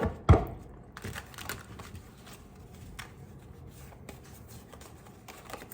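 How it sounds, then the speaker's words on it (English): Tarot cards shuffled by hand, a sharp riffle burst near the start followed by softer, scattered shuffling and card taps, close and quiet with no talking. "I'm going to shuffle 3 times."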